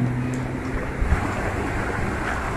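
Waves wash onto a beach at Jeddah in a steady, close hiss with no break. Wind buffets the microphone throughout.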